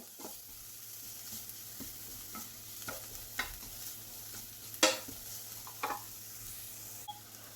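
Freshly ground pepper masala with turmeric frying in a pan, a soft steady sizzle under scattered scrapes and taps of a spoon stirring, one sharper scrape standing out midway.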